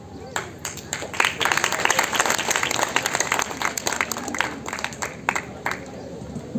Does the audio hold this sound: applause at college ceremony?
yes